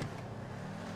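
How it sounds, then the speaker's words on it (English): Knight Rider car engine in Grand Theft Auto V on Xbox 360, a brief steady low engine rumble lasting about a second, fairly loud and even with no talking. "But here we have the Knight Rider car."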